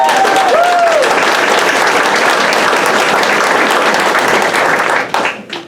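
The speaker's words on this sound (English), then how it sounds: "let's give them a round of applause." Sustained applause from an EMS banquet audience fills the room, a loud dense wash of many hands clapping that continues steadily for several seconds before tapering off.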